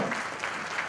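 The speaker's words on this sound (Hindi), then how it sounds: "जोरदार तालियां" A brief burst of audience clapping at a children's Save Girl Child performance, dense and moderately loud, with a few sharper individual claps standing out.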